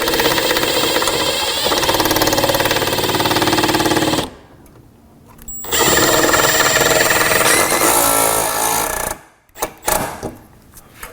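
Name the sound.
drilling pilot holes with a 1/8 drill bit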